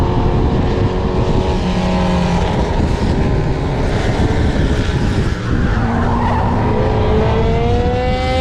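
A race car on a circuit loses grip and skids, with loud tire squeal sliding in pitch over a roaring engine, close and continuous throughout.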